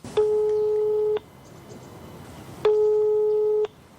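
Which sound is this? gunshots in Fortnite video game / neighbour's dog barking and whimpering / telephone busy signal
telephone busy signal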